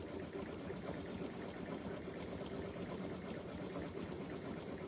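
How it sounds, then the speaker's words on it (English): Close, continuous whir of a sewing machine working a dense green satin stitch, steady and unbroken throughout with no voices. "So we're almost done sewing our green satin stitch"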